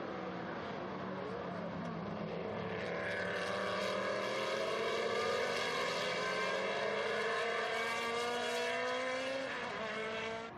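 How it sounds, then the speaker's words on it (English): Historic Lola T70 Mark III B race cars at Estoril, a pair in close company, roar steadily and loudly through the braking area, their engine notes shifting in pitch as they slow for the corner; no voices are heard. "it's going to be the two white and green striped Lola T70 Mark III Bs into the braking area."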